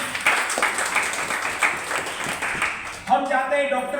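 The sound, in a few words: audience applause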